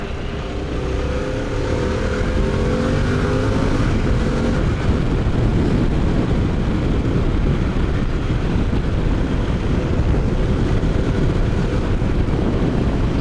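Steady, loud wind roar buffets a rider on a Harley-Davidson Pan America motorcycle cruising a dual carriageway, with the engine droning underneath throughout and no talking.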